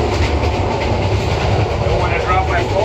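A steady, loud rumble of a train to Dong Hoi rolling along the rails, heard from aboard, with a continuous rattling drone and faint talk underneath.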